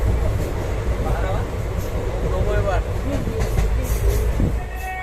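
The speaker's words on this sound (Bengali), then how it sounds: "আমাদের ট্রেন এই মুহূর্তে এসে পৌঁছলো গোরক্ষপুর জংশনে" Passenger train 12328 from Dehradun to Howrah pulling into Gorakhpur Junction at night: a loud, steady rolling rumble with rail clatter fills the whole stretch, with faint voices mixed in.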